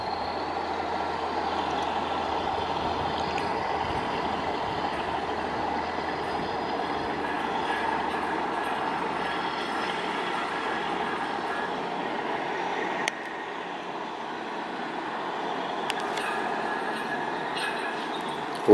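A locomotive pulls a train away at Leipzig central station with a loud, steady rumble of engine and rolling wheels that continues throughout, dipping slightly near the end, with no voices.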